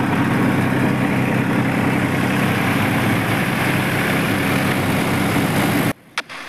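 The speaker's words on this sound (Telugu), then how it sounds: "2 ట్రాక్టర్లు ఇక్కడే గుర్రు లాగుతున్నాం" Two tractors puddling a wet, rain-soaked paddy field, a loud, steady low engine drone that runs unbroken for several seconds before cutting off abruptly near the end.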